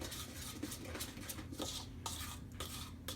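A spoon stirs powdered mix into milk in a bowl, giving a steady run of soft scraping and light clinks against the bowl, close and fairly quiet, with no talking.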